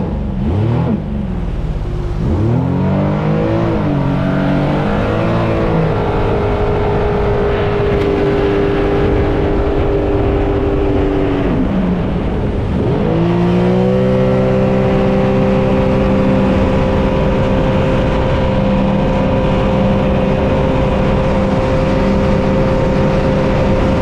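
A 2021 Sea-Doo GTI SE 170 personal watercraft's Rotax engine drones close by on the water, its pitch rising and falling as it revs up, eases off, then holds a steady higher whine.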